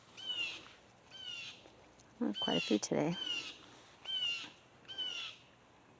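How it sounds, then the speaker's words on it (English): Birds call repeatedly in a backyard blueberry patch within a mini food forest, with short, sharp chirps recurring about once a second. A person speaks briefly in the middle, over the calls. "The birds are mad because I'm picking the blueberries."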